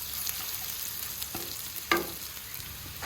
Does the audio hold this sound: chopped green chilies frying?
yes